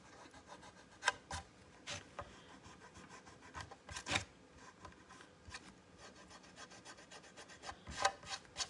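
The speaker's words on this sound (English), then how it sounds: "Kind of like Tracy, you could rub and rub and rub and you still don't get all of it" Paper is rubbed off a photo transfer in a craft project. Close, repeated rasping strokes continue throughout, with a few sharper scrapes standing out and no speech.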